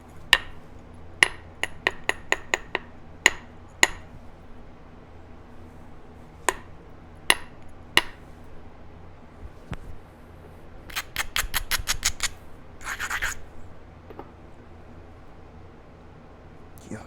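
Sharp clicking taps of a tool trimming the edge of an obsidian Clovis point during flintknapping, coming in irregular bursts and then a quick run of rapid clicks, close and fairly loud over a quiet room.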